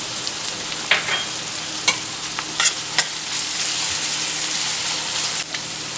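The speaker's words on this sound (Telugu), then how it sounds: "ఉప్పు వేసుకోవడం వల్ల ఉల్లిపాయ త్వరగా వేగుతుంది, త్వరగా క్యారమలైజ్ అవుతుంది" Onion and green chilli fry in hot oil with a steady close sizzle, broken by scrapes and clacks of stirring, and no one talking.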